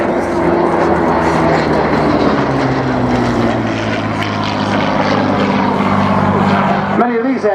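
A Hawker Hurricane fighter flies past at the Wings and Wheels airshow at Dunsfold in 2014, with a loud, steady propeller engine drone that slowly shifts in pitch and someone speaking over it.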